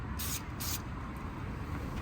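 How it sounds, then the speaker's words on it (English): EGR and carb cleaner hisses from an aerosol can into a car part in two short sharp bursts over a steady background rumble. "So we're just going to spray it in"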